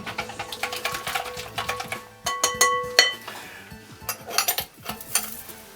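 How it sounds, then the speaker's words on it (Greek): Egg being beaten into a dough mixture in a bowl, a utensil clicking and scraping against the sides in quick irregular strokes, close and fairly loud with brief clinks. "Έτσι το χτυπάμε ακόμη λίγο να αφομοιωθεί να γίνει 1 με το αυγουλάκι."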